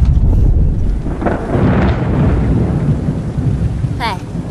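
Loud, close thunder rumbles and rolls continuously as a storm gathers, with rain and wind noise mixed in and no voices.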